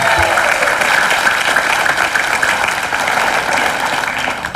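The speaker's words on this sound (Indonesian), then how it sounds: "Tepuk tangan dong." Studio audience applause on an Indonesian TV talk show, a dense, steady wash of many hands clapping that stays loud and unbroken throughout.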